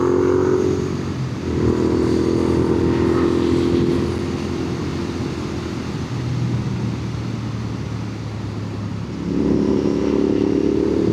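A Royal Enfield 650 motorcycle rides steadily with a loud, continuous engine drone and wind rush, the tone rising and falling between gears.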